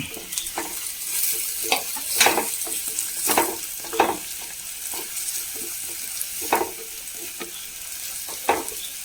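Continuous frying sizzle of green chillies in a pan, punctuated by repeated scraping and clattering of a spatula stirring; no one speaks.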